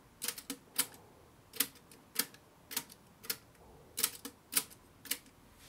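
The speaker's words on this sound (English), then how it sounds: "The sliding parts are moved by these three pivots, which rotate as I press the register keys." Register keys on an accordion pressed in turn, each sending pivots and sliding parts through a crisp mechanical click; about a dozen sharp, close clicks come in quick pairs and singles, alone without voices.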